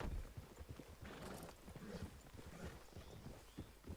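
Horse hooves clip-clop in Red Dead Redemption 2, a quiet, steady run of hoofbeats heard on their own.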